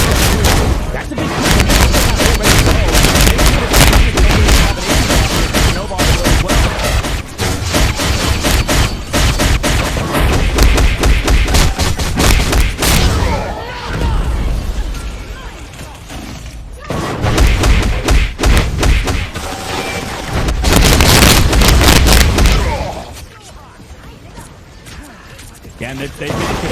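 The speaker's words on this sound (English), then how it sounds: "Here comes the Meteor M with the Eternal Bomb." Eternal Bomb explosions in a mech video game match, with loud, dense booms and thuds rolling almost continuously amid gunfire and commentary.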